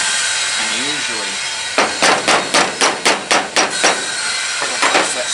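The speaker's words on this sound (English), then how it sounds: "I like to put pressure on my screwdriver and then just kind of turn it to the right while tapping it" Sharp metallic hammer taps on a screwdriver, struck to loosen a screw on a 1979 Ford F-150 pickup: about nine quick, evenly spaced close blows in a row, then a brief pause and two or three more, with faint background hum before.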